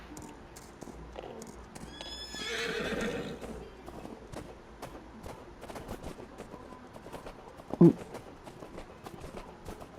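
In the video game Farming Simulator 25, a horse whinnies once, clear and fairly close, over a steady patter of hooves clip-clopping, with a sharp knock near the end.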